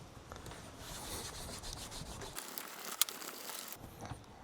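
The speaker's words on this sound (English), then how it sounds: "Now we're going to polish these edges with a bit of canvas, and then that'll give us a nice sheen." Canvas rubbed briskly along the edges of a leather belt, a steady close scratchy friction that continues throughout without pause, with a single sharp tick partway through.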